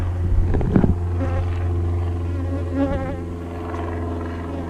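A varroa mite vaporizer for treating bees hums steadily and close by, a strong low drone with a faint buzzing edge that holds constant throughout.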